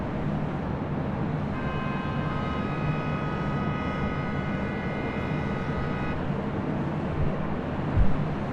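A Lufthansa Airbus A380 airliner at LAX rumbles steadily at a distance, with a clear multi-tone engine whine for several seconds that then cuts out, and a couple of low thumps near the end.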